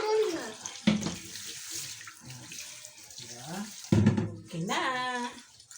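Drinking water pours in a steady splashing stream into a container in a home kitchen during spaghetti preparation, close and clear. Someone talks intermittently over the flow.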